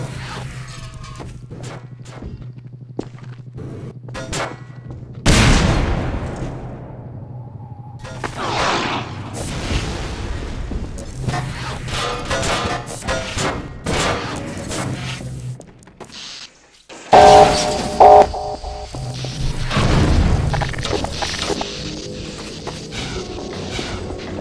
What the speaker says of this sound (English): the player gets to use physics to jam the gun's mechanism and cause it to break